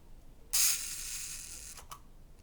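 A rangefinder camera with a bayonet mount and a two-curtain metal shutter fires at half a second: a crisp opening click, a brief mechanical whir, then a second closing snap over a second later, close up and alone.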